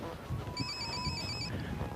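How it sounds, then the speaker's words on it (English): A cell phone rings out in the open desert along the Silk Road in China, a steady electronic ringtone of repeated tones running through the middle of the moment over low ambient wind noise. "Is that one of the guy's cell phones?"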